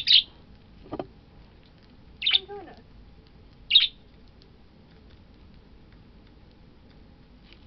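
Pet birds chirping indoors: three short, sharp high chirps spaced a second or more apart over a quiet background, with a brief spoken voice between the first two.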